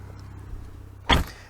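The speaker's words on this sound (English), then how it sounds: "Let me shut this door." A car door on a 2013 Chevy Camaro shuts with a single solid thump, close and fairly loud, following a quiet interior hum.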